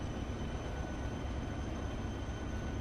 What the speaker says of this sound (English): USA train moving again